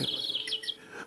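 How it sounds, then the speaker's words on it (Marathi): Small birds give a quick series of high, thin chirps and tweets, faint and somewhat distant, lasting only a moment. "पक्ष्यांचा किलबिलाट येतोय."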